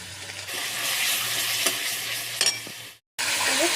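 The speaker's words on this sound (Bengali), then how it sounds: "এবার পেঁয়াজটা ভালো করে ভেজে নেবো" Onion paste sizzles and fries in a pan for Bengali doi ilish, with steady broadband frying noise and several scraping stirs, then a brief gap of silence before the sizzle resumes; no talking.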